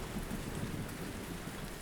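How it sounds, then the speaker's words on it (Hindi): Heavy rain pours in a dense, steady hiss with a low rumble of thunder underneath, a storm effect in an animated story, fairly quiet and even from start to end, no speech. "भयंकर वर्षा होने लगी और बुरी तरह से बिजली कड़कने लगी।"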